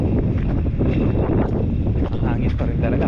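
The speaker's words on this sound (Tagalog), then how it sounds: "Mahangin pa rin talaga." Strong wind at a sea fishing spot blows hard across the microphone in rough gusts over the rush of water, with voices talking beneath the buffeting.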